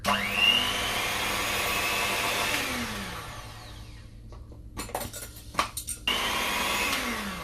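A kitchen stand mixer with attachable blades runs at a loud, steady whir, drops out briefly while a few clattering knocks sound, then starts up again at full speed.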